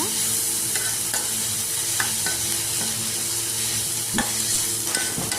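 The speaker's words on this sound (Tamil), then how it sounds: "இப்போ அது புளி அது போட்டு நல்லா வதக்கிக்கலாம்" Ingredients for coriander chutney, with tamarind going in, stirred and sautéed in a hot pan, giving a steady close sizzle with repeated scraping stir strokes and light clinks, no voices.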